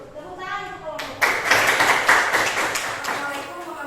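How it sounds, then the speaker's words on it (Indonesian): A classroom audience claps for a presenting group, starting abruptly after a voice and continuing as a close, steady patter of hands with talk layered over it. "Tepuk tangan untuk kelompok."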